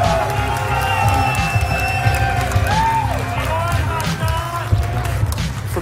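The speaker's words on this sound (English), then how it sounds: "One more time, ladies and gentlemen, round of applause." A loud crowd at a tournament semi-final cheers and whoops in a continuous roar, with scattered shouts and rising calls over the top and voices mixed in throughout.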